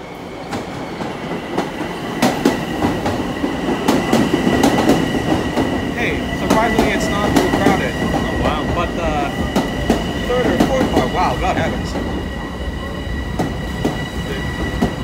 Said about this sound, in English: Now arriving on track 3 is the 1:58 p.m. train to Ronkonkoma.